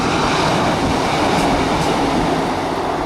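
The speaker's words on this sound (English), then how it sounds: "Well, there's a train just coming in." An Arriva Trains Wales passenger train rolls past close by, a loud, dense rumble of wheels and carriages that stays steady for the whole stretch, with no talk.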